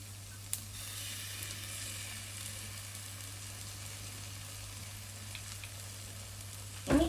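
Soya chunk gravy with chili sauce sautés in a pan, a faint, even sizzle over a low steady hum, with one small tap early and a brief louder clatter at the very end.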